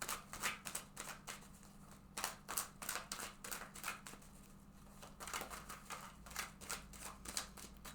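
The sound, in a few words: shuffling a deck of cards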